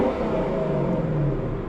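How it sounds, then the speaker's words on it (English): A 2018 Lexus LC 500 engine revving in Sport Plus mode, a loud steady deep roar held close to the mic throughout. "Let's rev it up."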